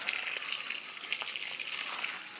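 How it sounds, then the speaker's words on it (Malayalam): Water poured from close by onto banana plants in a home garden, a steady splashing gush that stays fairly constant with small spatters and no talk. "വാഴയിൽ വെള്ളം ഒഴിക്കണം"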